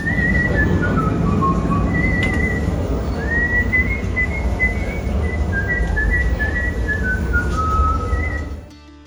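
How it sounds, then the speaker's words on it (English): A whistling oyster exhibit at the Guinness Storehouse lets out a long, steady whistled tune that glides up and down in pitch, loud and continuous over a low hum of the room before it cuts off. "whistling oyster"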